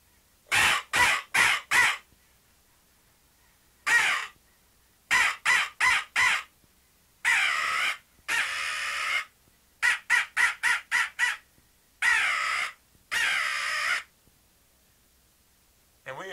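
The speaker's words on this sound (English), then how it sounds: "So I'll cut up a little bit with the crow call right now." Loud, harsh caws from a hand-blown crow call come in rapid series of three to five, separated by pauses, some drawn-out and raspy, close and clear against silence.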